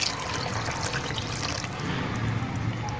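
About one and a half cups of water pour into a pan of beef kofta curry, a steady close rushing splash and trickle lasting a few seconds with no talking.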